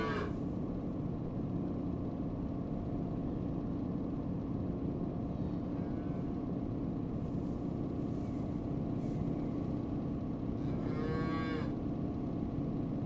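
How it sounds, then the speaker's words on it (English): Cattle mooing in the back of a truck trailer in a PS5 driving simulation game, a long low moo rising late in the stretch over a continuous loud engine and road rumble, with no voices. "They're still mooing in the back, aren't they?"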